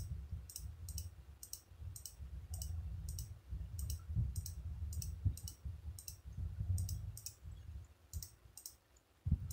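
Repeated sharp mouse clicks from a face-blurring and makeup photo-editing session, coming in quick irregular bursts of two or three over a steady low background hum, close and fairly quiet, with no talking.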